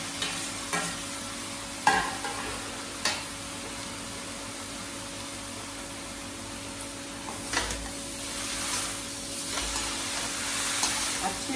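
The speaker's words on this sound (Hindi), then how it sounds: "अच्छे से हम मिक्स कर देंगे" Okra being mixed with spices in a pan, a low steady sizzle broken by sharp scraping spatula strokes and knocks against the pan, no talk.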